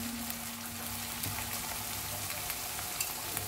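Two chillies sautéing in a pan for a cabbage curry: a steady close sizzle with a faint tonal hum and occasional light clicks of stirring, with no talking.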